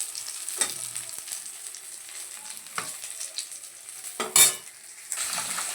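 Rohu fish pieces fry in hot oil with a quiet, continuous sizzle, as a few faint clinks and scrapes from a utensil come and go.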